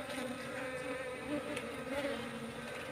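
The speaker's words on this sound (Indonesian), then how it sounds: "lebah serana yang menghasilkan madu ini memiliki ratu" Stingless honey bees buzz steadily in a soft, continuous drone, a small swarm hovering nearby with no voices.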